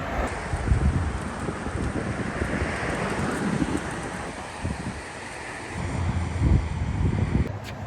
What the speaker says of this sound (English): it's gonna be windy today